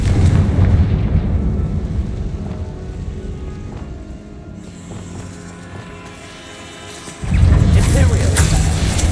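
Confringo blasting spells burst in Hogwarts Legacy inside the Fieldcroft catacomb, giving heavy booming explosions at the start and again near the end with a quieter rumbling stretch between, while a voice talks over the noise.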